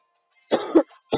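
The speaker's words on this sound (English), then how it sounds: "I'll dry cough a little bit." A person gives a short dry cough, two quick rasping bursts and then the start of a third, close and alone in otherwise quiet surroundings.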